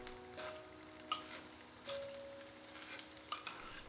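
Rice, vegetables and beef with chili sauce and sesame oil are mixed in a hot stone bowl, giving bursts of scraping and crackling sizzle over a quiet background.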